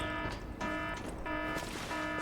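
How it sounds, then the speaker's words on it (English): An alarm blares inside a factory in the video game Lies of P, a steady repeating electronic tone pulsing on and off in loud bursts over a dense mechanical background. "Sketchy alarm."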